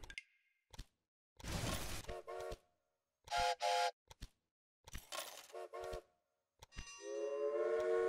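Trains starting up in the Railway Empire video game: short bursts of whistle tones and rattling clatter come in separate loud blasts with silent gaps between, ending on a sustained whistle.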